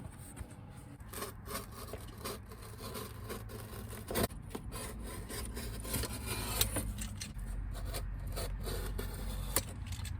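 A blade cutting through material in a DIY workshop, a run of short scraping and rasping strokes in an uneven rhythm, close and fairly quiet.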